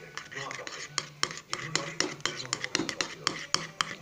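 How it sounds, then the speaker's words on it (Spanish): Yogurt sauce is stirred with lemon juice in a bowl, a spoon clinking and scraping against the sides in a quick irregular rhythm, close by and under talking. "Y lo vamos a mezclar bien otra vez."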